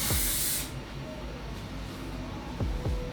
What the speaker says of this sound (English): I didn't realize how important hairspray was, but just be careful, you don't want to spray too much.